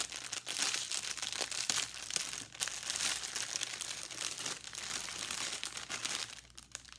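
Diamond painting drills sealed in a plastic bag, from a Diamond Art Club kit, crinkle and rustle steadily and close up for several seconds, with a few sharper crackles and no talking.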